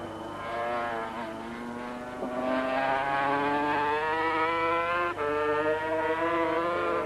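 Superbike motorcycles race on a track in a 1984 event, high-revving engines whining with rising and falling pitch as bikes pass, loud and continuous throughout.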